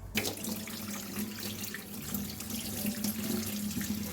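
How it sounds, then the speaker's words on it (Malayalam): Cold tap water runs steadily over pasta in a sink, a continuous splashing rush with no talk. "ഇനി ഇത് തണുത്ത വെള്ളം ഒഴിച്ച് നന്നായിട്ടൊന്ന് വാഷ് ചെയ്തെടുക്കണം."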